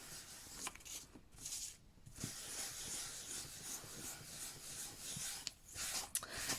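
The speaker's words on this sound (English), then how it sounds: "very lightly just rubbing over the top." Light rubbing over an embossed inked card makes a soft, close, dry brushing and scuffing sound in short repeated strokes with small gaps between them.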